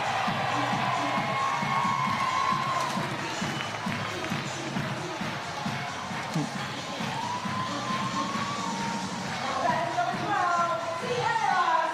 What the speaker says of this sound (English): now the crowd's getting into it